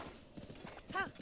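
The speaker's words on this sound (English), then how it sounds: "Go, my horse, go." Horse hooves clip-clopping at a run in The Legend of Zelda: Breath of the Wild, a steady quiet patter that ends in a brief whinny-like tonal call near the end.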